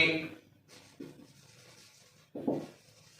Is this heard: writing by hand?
yes